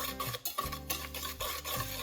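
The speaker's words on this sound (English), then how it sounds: "let's start by putting the eggs in here, and then the sugar, and start whisk a little bit" Quiet scraping and rubbing of a whisk stirring eggs and sugar together in a bowl for a chocolate cake batter, a few irregular strokes close up with no voices.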